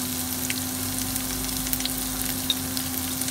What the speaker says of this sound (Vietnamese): Và mình sẽ cho tỏi, hành, cái hành đập dập vừa xong ấy, với cả cái sả. Mình chiên cho thơm lên.